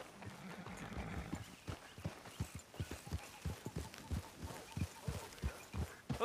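Horse hooves clopping along at a walk in Red Dead Redemption 2, a steady run of soft thuds heard close up over a low ambient bed for the whole stretch.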